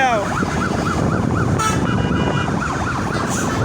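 An ambulance siren wails in rising and falling sweeps, loud and close, over heavy traffic noise with a few faint voices, late at night at Ibrahimabad railway station.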